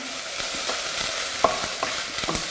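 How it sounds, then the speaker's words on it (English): Okra frying in hot oil gives a steady close hiss, broken by sharp clicks and scrapes of stirring in the pan, with no voices. "So you can let that fry."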